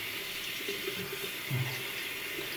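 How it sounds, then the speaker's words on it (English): Water runs from a tap onto a shaving brush, a soft, steady trickle and splash at low volume with no voices. "So wet the brush."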